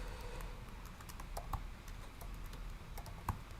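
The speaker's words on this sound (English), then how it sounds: "I'm typing in stand-up fins in the search bar" Faint, irregular keyboard typing with scattered soft clicks over a low background hum, entering words into a search bar on a computer.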